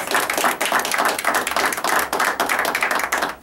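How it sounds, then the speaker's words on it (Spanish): Applause for a town during a community telethon, a dense burst of many hands clapping rapidly and loudly, sustained throughout without pause. "vamos a Comercial. darle un aplauso al pueblo de"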